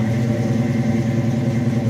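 A 1972 Plymouth Cuda idles just after starting, its engine giving a steady, close, low rumble with no voices over it.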